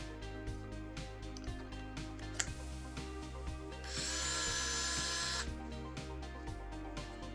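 A HOTO PixelDrive electric screwdriver whirs steadily with a magnetic chuck and bit fitted, its motor hum broken by repeated short ticks and one sharp click, then a louder, brighter run at higher speed midway before settling back.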